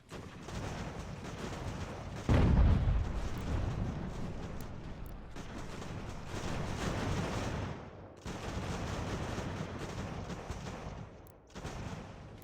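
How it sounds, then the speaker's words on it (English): Cannon fire in the naval battle video game Ultimate General: American Revolution: repeated booming blasts over a constant rumble of battle, with one especially heavy, loud hit near the start and further bursts spread across the span. "Oh, double cannon hit!"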